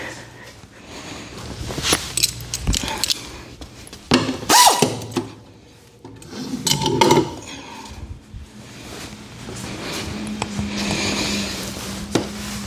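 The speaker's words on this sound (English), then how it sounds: "use the air tool" A pneumatic air tool works on the belt pulley of a Z920M mower deck in short irregular mechanical bursts and rattles, mixed with clanks of handling and some low background noise.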